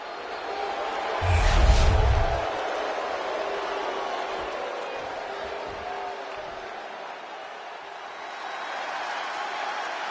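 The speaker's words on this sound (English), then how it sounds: "The crowd on their feet." Wrestling arena crowd cheering, a distant, roaring wash of noise that swells briefly early on and then settles into a steady murmur.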